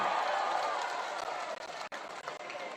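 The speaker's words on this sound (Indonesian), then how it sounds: "Boleh tepuk tangan untuk Bung Ismail Bahtiar" A crowd at a political campaign gathering in Bone, Indonesia applauds steadily, dense clapping filling the space, with the noise thinning slightly toward the end.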